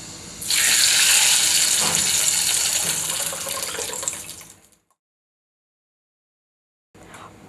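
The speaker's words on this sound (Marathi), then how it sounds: "अजून थोडं पाणी घालणार आहे मी" Water pours steadily into a pot of cooked, spiced urad dal for Satara-style ghuta. The splashing gush is close and loud for about four seconds, then stops, and a brief trickle returns at the end. No talking.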